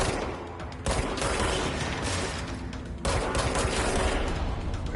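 Sustained automatic gunfire in the video game Control, a dense, loud, continuous burst of rapid shots that cuts out briefly and then resumes with two surges of renewed firing.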